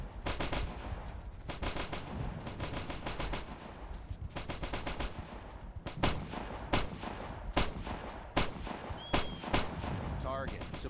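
Bursts of machine gun fire from an MG position in the military shooter Operation Flashpoint: Dragon Rising rattle in long rapid strings, then give way to sharper single and paired shots, loud and close.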